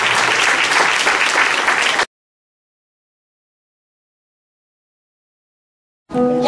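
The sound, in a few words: audience applause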